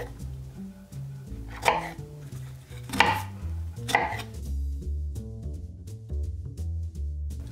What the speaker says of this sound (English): grab a couple of strawberries and cut and quarter them